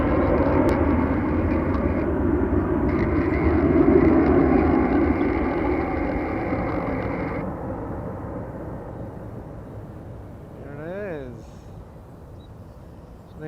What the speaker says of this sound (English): that was WestJet 438 heading to Toronto